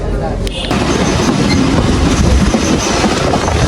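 A local train rumbles loudly along the rails close by on a Faridpur to Pangsha route, with a continuous rattling clatter of wheels and carriages.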